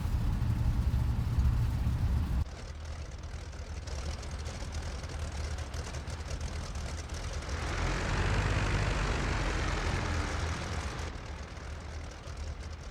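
The twin engines of a He111 bomber in the IL-2 Sturmovik flight simulator drone steadily during takeoff, a loud, continuous propeller roar that shifts after a couple of seconds and swells midway as power builds.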